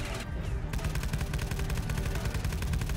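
Rapid automatic gunfire in Call of Duty: Black Ops 3, a dense, continuous stream of shots over a heavy, rumbling battle background, loud and unbroken throughout.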